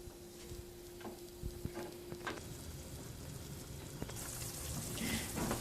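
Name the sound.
red wine reducing in a pan before adding meat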